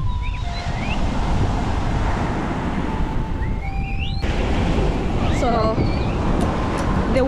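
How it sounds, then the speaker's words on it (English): High ocean waves crashing near an African village in the evening, a continuous loud surf roar mixed with wind buffeting the microphone, with voices and brief whistling sounds over it. "The waves are so high,"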